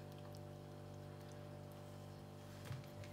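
Liquid poured into a jar of pickled Scotch bonnet peppers topped with allspice makes a soft, steady trickle that runs the whole time beneath a constant low hum. It grows briefly louder near the end, and no one speaks.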